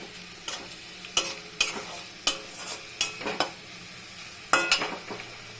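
Drumstick flowers with salt, turmeric and Kashmiri chilli powder frying in oil in a pan, stirred in a handful of sharp scraping strokes over a steady soft sizzle, close up and without talk.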